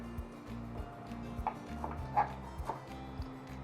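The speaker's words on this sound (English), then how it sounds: "Just roughly chop some parsley and add it in with the vegan cheese." A knife roughly chopping fresh parsley on a board, a series of irregular close taps and knocks with a few faint ringing clinks between the strokes.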